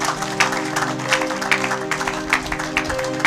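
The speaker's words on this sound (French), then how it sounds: "Acclamez pour la gloire de notre Dieu, de notre Seigneur." A church congregation claps in rhythm during a worship service, a steady run of loud, close handclaps over held music tones.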